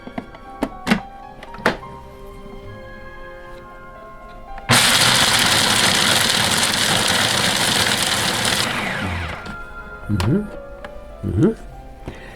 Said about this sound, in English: And let's give this a grind.